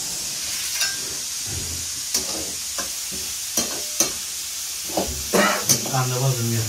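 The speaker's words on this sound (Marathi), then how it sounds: "कांदा भाजून घेतला." Onion roasts on a wood-fired clay stove, a steady sizzle and hiss broken by a series of scraping stirs and clinks, with a voice talking briefly near the end.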